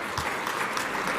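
Audience clapping at a club luncheon, a steady wash of many hands filling the whole short moment without voices.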